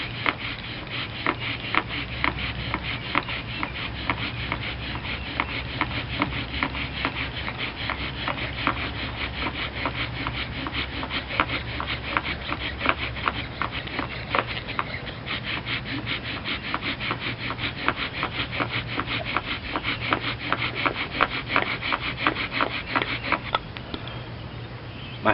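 A bow drill spindle rubs on a wooden fireboard, pushed by a paracord bow in a fast, steady back-and-forth grinding rasp that carries on close and loud for over twenty seconds, with no talking.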